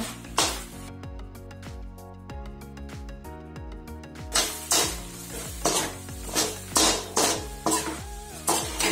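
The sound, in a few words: stirring fried okra into masala in pan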